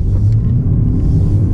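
A Mercedes-Benz C200 facelift sedan with a 1.5-litre turbo four-cylinder pulls away, its low steady engine rumble and road drone filling the cabin, continuous and fairly loud with no talking.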